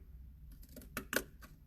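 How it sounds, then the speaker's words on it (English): Two or three crisp snips of scissors cutting through paper, close up and fairly quiet, with short pauses between cuts. "use your scissors, cut down"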